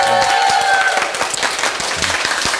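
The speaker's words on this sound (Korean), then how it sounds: "박수 한번 주시기 바라겠습니다" Audience applause during a live local television broadcast, dense steady clapping throughout with faint crowd murmur underneath.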